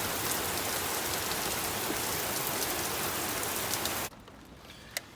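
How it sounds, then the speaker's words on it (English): Steady rain falls hard and loud in a constant hiss for about four seconds, then stops abruptly, leaving quiet air with a single faint tap near the end. "Oh, there we go, it's raining."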